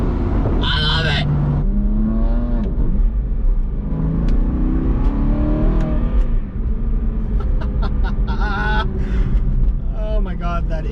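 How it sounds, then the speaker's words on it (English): BMW M4 engine and exhaust while cruising on Tennessee mountain roads, a loud rising and falling drone with revs climbing through gear changes and sharp blips, close and continuous under occasional talk. "Oh my god, that M4 sounds so good."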